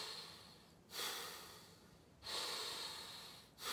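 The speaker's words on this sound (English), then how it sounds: "you can notice that you're still hearing a forceful inhale and a forceful exhale" Belly breathwork with forceful breaths, each a loud rushing push of air through the nose, lasting over a second and coming in a slow, even rhythm, close up with no talking.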